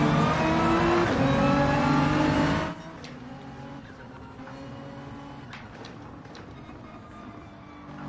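Gran Turismo 7 race car engine roaring loud and steady under load, cutting off abruptly into a quieter idle with faint tire skids and squeal noises; no talking.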